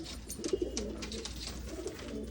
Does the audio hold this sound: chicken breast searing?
no